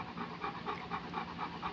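A large dog pants rhythmically and steadily, about three quick breaths per second, close and moderately quiet with no talk.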